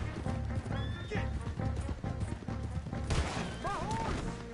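In Red Dead Redemption 2, a horse clip-clops and whinnies in the middle of chaotic gunfight noise and a brief voice, with a rising neigh near the end.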